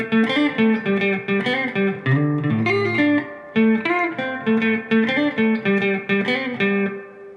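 A lightly overdriven electric guitar plays the rhythm figure, a busy run of choppy strummed and picked notes with a brief gap midway, loud and near with no talking over it.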